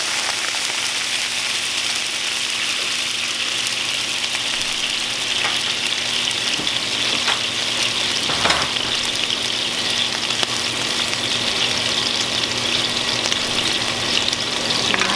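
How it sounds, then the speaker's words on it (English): Mustard, vegetable stock and water are stirred together in a pan, giving a steady bubbling, sizzle-like wash with a few light clinks throughout, close and alone without talk. "I'm just going to stir that up a little bit."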